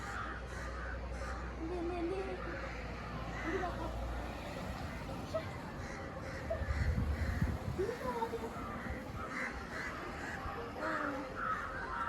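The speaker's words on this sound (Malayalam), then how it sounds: "വവ്വാലും കാക്കകളും ഒക്കെ ശരിക്കും ഉണ്ട് ഇവിടെ" Crows caw repeatedly at dusk beside a main road in rural Kerala, with faint traffic rumble and distant voices behind the calls.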